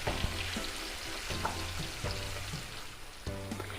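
Lemon pepper chicken fries in a pan as it is mixed. A constant close sizzle runs under repeated scraping strokes of a utensil against the pan, with no talk.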